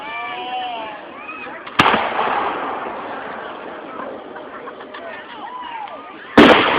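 Fireworks go off outdoors, a sharp loud bang near the start and another near the end over a steady crackling, fizzing background, with people's voices reacting between the blasts.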